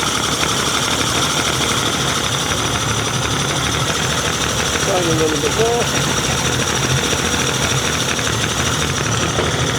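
A rebuilt 75hp Yamaha outboard uprated to 90hp runs at a steady, rough idle throughout, a loud continuous engine drone with a brief voice speaking over it.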